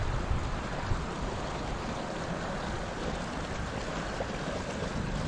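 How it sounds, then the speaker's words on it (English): Floodwater from melted ice rushing down a roadside ditch after a storm, a dense, steady roar of fast water, close and loud with no talking. "This is the ditch. This is not a river. This is not a creek or a river. This is the ditch. From all the melted ice for the past 12 hours."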